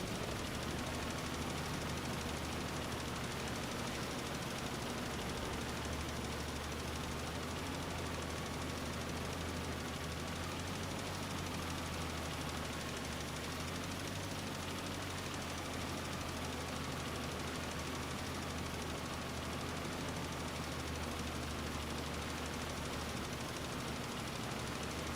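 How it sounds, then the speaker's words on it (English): Tractor engine labouring under load in Farming Simulator 25, a steady, dense droning rumble with a knocking vibration that holds unbroken and fairly loud for the whole stretch, with no talk. "I can't believe this tractor is struggling."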